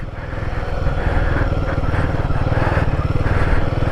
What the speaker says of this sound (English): Get a little bit of engine braking going on here.